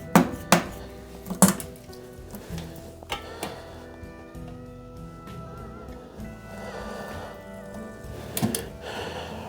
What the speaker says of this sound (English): I'm just gonna use a chisel and a rubber mallet and see what we can do with that.